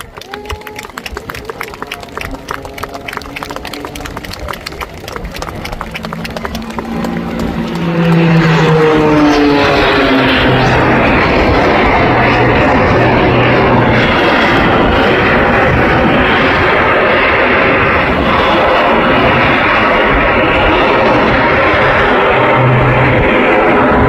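A jet-powered biplane roars up to a loud, sustained rumble as it departs at Blackpool Airshow 2024, staying at full volume, with crowd noise and a commentator's voice faintly mixed in early on.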